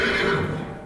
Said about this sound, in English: It let out a long whinny and broke free from its pole